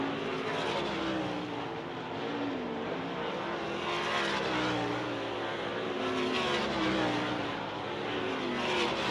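Kubota High Limit sprint cars run hot laps on the dirt track at Southern Oklahoma Speedway, their engines a loud, continuous roar that rises and falls slightly as the cars circle.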